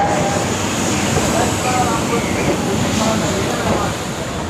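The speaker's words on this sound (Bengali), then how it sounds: "শিয়ালদা থেকে ট্রেন ছেড়ে দিয়েছে" A train departing Sealdah station rumbles steadily along the rails with a continuous clatter and hiss, with faint voices mixed into the background.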